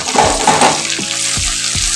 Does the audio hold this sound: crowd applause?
no